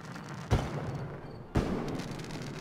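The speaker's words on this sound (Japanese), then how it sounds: "花火っぽいものが鳴ってるけど" Fireworks-like booms sound in Fallout 4's Nuka-World amusement park: two sharp bursts about a second apart, each decaying into a rumbling wash over steady in-game ambience.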